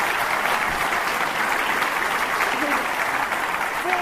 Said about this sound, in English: I'm not used to claps.